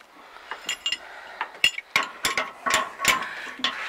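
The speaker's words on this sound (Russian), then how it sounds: "Характерный скрежет пошел." Machinery gives off irregular metallic clanks and scraping clicks, a rough, uneven grinding from a worn roller bearing on a CLAAS Rollant 46 hay baler.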